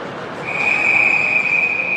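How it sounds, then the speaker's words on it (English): A referee's whistle at a youth ice hockey game blows one steady, shrill blast lasting over a second, loud and clear above the muffled arena noise. "now we're gonna have a whistle for, I'm gonna figure offsides"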